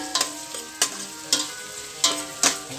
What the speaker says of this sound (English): I'm going to start by first frying some onions